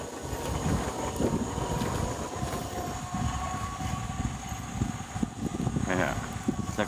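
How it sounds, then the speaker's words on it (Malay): Strong wind roars and buffets the microphone steadily at night, a constant loud rush with low rumbling gusts and no clear voices. "Angin dia kuat."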